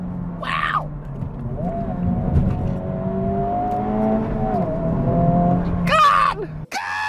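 A Honda Civic Type R accelerating hard, its engine a loud, close, steady drone with tones climbing and holding for several seconds, briefly broken by short voice exclamations near the end.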